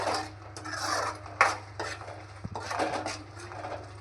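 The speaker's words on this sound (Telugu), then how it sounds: "నీట్గా కలుపుతూ టమాటా రసం స్మెల్ పోయేంత వరకు కలుపుతూ ఉండాలి" A utensil scrapes and clinks against a pan while mushroom curry with tomato juice is stirred. Rubbing strokes repeat in bursts, with a few sharper metallic knocks, close and fairly quiet.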